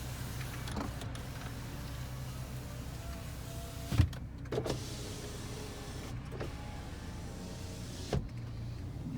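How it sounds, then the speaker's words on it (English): Power windows on a 2004 GMC Envoy SLT 4WD run down and up in turn, a steady electric motor whine broken by several soft thuds as the glass reaches its stops, heard close inside the cabin without talk. "Power windows."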